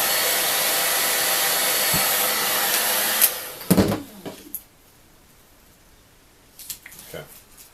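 Heat gun or hair dryer blowing hot air onto labels on used books, a loud steady whooshing hum that cuts off after about three seconds, followed by scraping, handling knocks and quiet room tone.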